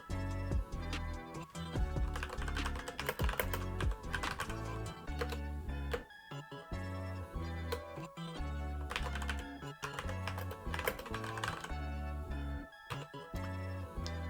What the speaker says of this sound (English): And now I'm typing